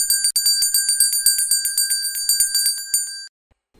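A bright bell rings rapidly over and over in a quick steady rhythm, close and loud, then stops abruptly.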